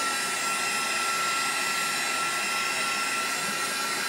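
An embossing heat tool drying layered ink on a craft surface, a loud, steady blowing hiss that runs unbroken and close to the microphone throughout, with no voices.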